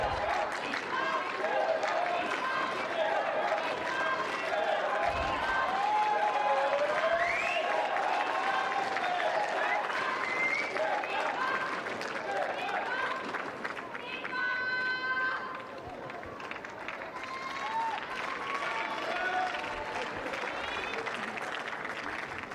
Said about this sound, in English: So a lively crowd, not a huge crowd tonight, but a lively one.